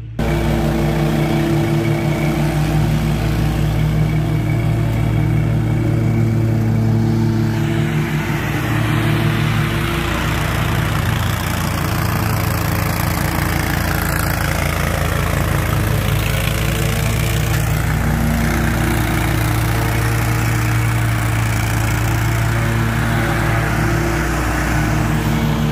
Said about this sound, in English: He's basically doing one last mow and taking those up.